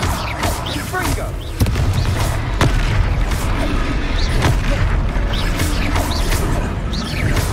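Blasting-spell explosions in Hogwarts Legacy, a dense run of booming bursts and impacts amid game combat noise, with a character's voice calling out over them.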